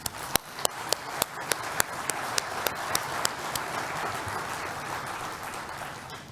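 Audience at a business meeting applauding, a steady wash of clapping from a moderate crowd with several sharp individual claps standing out near the start, sustained for several seconds.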